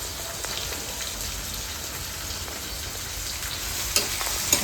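Tomatoes hit hot oil with mustard seeds, cumin, curry leaves and onion, giving a continuous dense crackling sizzle with a couple of sharper pops toward the end.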